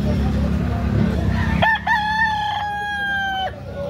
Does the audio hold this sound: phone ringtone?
no